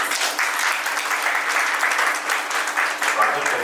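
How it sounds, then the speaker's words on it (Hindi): An audience at a lamp-lighting ceremony during a stage programme breaks into sustained applause, dense, even clapping that holds steady throughout, fairly loud and close. "मैं आप सभी से अनुरोध करूंगा कि आप सभी तालियों से"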